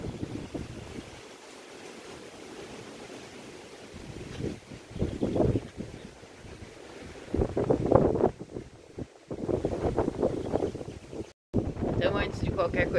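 Wind blows outdoors through a yard where fallen leaves keep gathering, a steady breathy rush with gusty buffeting on the microphone and occasional voices.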